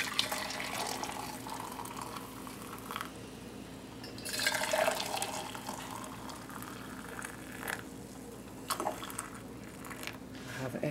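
Boiling water poured from a kettle into a jar, a steady close liquid rush with a few louder gurgling swells, heard alone without speech.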